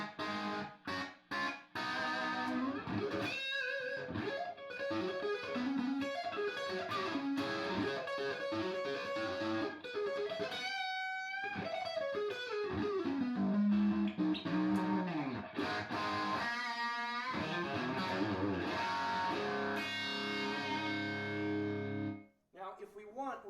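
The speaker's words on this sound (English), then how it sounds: "we're going to turn it up even louder to get more saturation, more power amp distortion." Electric guitar played through a cranked guitar amp into an ARACOM PRX150-DAG attenuator, heavily saturated with power amp distortion; loud sustained distorted notes and chords ring continuously for over twenty seconds, with slides and bends, then cut off near the end.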